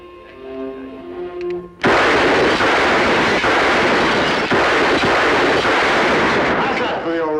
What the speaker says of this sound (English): I'll bet you that I can shoot the tops off of every bottle in that bar.